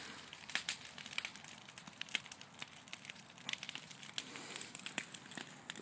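An outdoor bonfire on rural land burns hot, giving off steady faint crackles and sharp pops over a low hiss, with no talking.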